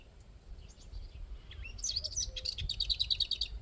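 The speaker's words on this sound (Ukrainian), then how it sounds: "Пташки співають, ви ж чуєте, да?" Small birds sing and chirp in quick, high trills, fairly faint and distant, growing busier toward the end with a low rumble underneath.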